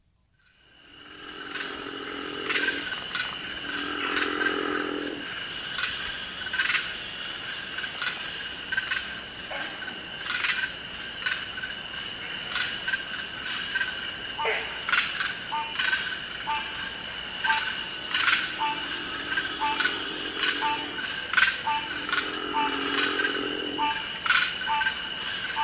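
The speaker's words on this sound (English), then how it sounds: "tree crickets outnumber the frogs, but green frogs, the green tree frog, the squirrel tree frog, and the eastern narrow-mouthed toad, the growl-like call of the river frog" Tree crickets trill in steady, shrill, unbroken chorus while river frogs, green tree frogs, squirrel tree frogs and eastern narrow-mouthed toads add low growls and pulsing calls, some from across a river, in a dense nighttime chorus without talk.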